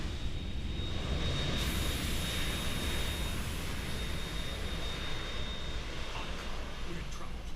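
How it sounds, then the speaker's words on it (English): Harrier jet in Metal Gear Solid 2 Substance, a steady broad roar of engine noise holding at constant level throughout, with a faint high whine above it. "We're in trouble. It's the Harrier."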